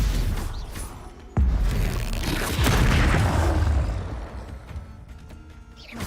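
The Bombarda explosion spell in Hogwarts Legacy sets off a sudden deep boom, then a rumbling roar and crackling debris that fade over a few seconds.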